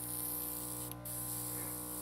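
A Thermalabs airbrush sprays paint in a steady, close, fine hiss, briefly cutting off for a moment before resuming.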